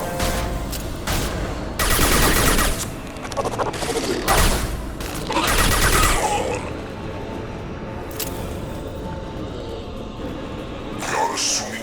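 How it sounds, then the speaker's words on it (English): Video game gunfire from Mass Effect 2 aboard the Collector Ship, heard as loud bursts of automatic fire and impacts in repeated volleys over several seconds, with game voices talking in between. "They're taking fire."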